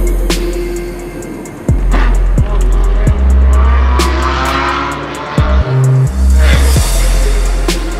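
A 2022 Audi RS6 wagon with a twin-turbo V8, bagged and boosted, drives past with a deep engine drone, several sharp transient pops and bursts, and a brief drop near the middle.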